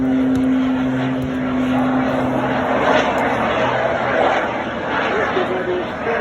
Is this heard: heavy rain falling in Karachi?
no